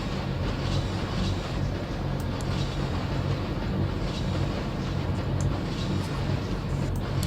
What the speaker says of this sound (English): I love watching the train go by.